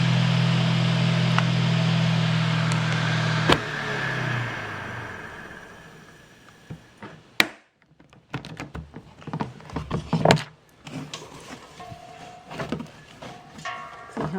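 A Laundry Alternative Ninja spin dryer whirs at a steady high pitch and then winds down, giving way after a sharp click to close handling clatter and knocks.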